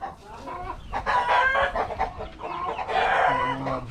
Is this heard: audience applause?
no